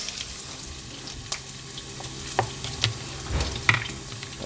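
Onions sizzle faintly in a hot pan for tokwa and pork with black beans, a soft steady frying hiss broken by small pops and clinks of stirring.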